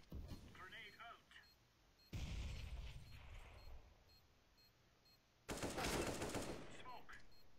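Bursts of Counter-Strike gunfire and grenade blasts come in sharp, loud surges with quieter gaps between them, and a voice briefly talks over the game sounds.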